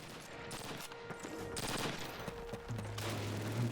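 Machine guns fire in a Call of Duty battle at a railway station. Several rapid bursts rattle out over distant battlefield noise, rising louder toward the end.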